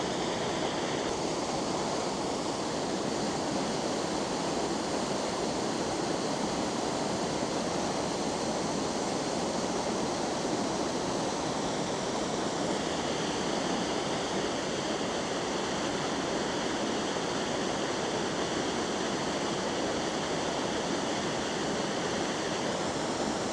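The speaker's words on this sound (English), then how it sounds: "Raging waterfall." Waterfall in Cuyahoga Valley National Park, raging with heavy flow, a steady broadband roar of rushing, churning water that holds loud and unbroken throughout, close by, with no voices.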